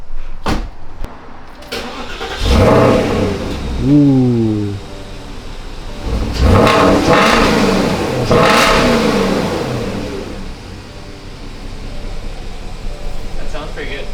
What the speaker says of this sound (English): let's hear that stock V8 exhaust